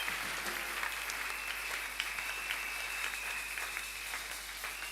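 Steady applause from a church congregation clapping for Jesus Christ fills the space, a dense, continuous patter of many hands with a few sharper claps standing out, at moderate distance.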